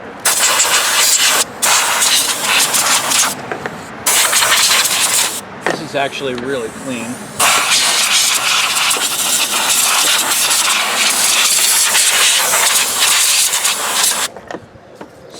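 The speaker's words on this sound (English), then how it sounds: "I want to take some air and maybe a shop vac and just spray out some of the debris." Compressed air blasts debris off the upper intake area of a GM 3800 3.8L V6 in an Oldsmobile 98. Loud, sustained hissing comes in long bursts with brief pauses, and someone speaks briefly between them.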